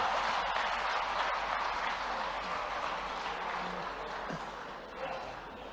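Sustained audience applause fills a Bhopal auditorium during a national seminar on happiness, a steady dense wash of clapping that holds for several seconds and slowly thins toward the end, with a faint voice briefly audible beneath.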